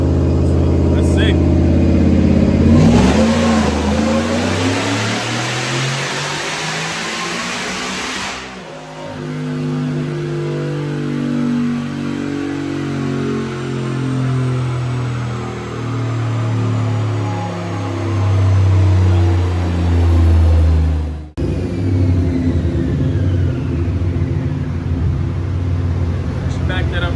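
A boosted car called Reaper revs hard on a chassis dyno, its loud engine note sweeping steadily upward through a long pull, briefly cutting out, then settling into a lower rumble near the end.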